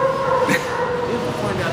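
A Basset Hound mix dog gives a short bark or yip amid steady background noise, with people talking nearby.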